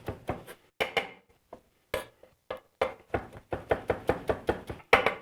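A knife chops fresh marjoram and chives on a board in a string of crisp, quick knocks, sparse at first and then a faster, steady run, close and alone.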